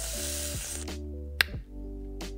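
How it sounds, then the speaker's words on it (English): Chicken wings frying in hot oil for Korean-style wings, a steady loud sizzle with a sharp clatter partway through and a brief lull before the hiss resumes, close and without talking. "And here we go, I'm frying the chicken."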